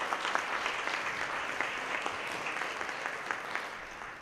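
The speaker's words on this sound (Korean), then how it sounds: "큰 박수로 맞아주시면 감사하겠습니다." A seated audience at a pharmaceutical industry symposium claps for an opening speaker, steady full applause with distinct individual claps standing out, fairly loud and continuous throughout.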